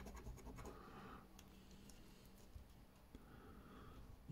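Soft scratching on a card, rubbed in short uneven strokes, quiet and close, ending with a faint bump.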